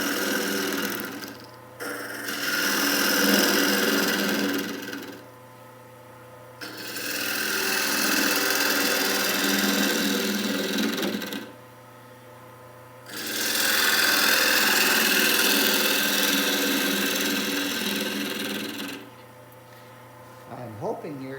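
A wood lathe turns a small bowl as a gouge cuts in long, loud scraping passes separated by brief pauses, over a steady low motor hum.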